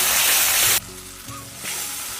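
Spice paste sizzling in oil in a pan for a banana flower and prawn dish, a loud close hiss that drops abruptly to a quieter fry, then rises again slightly.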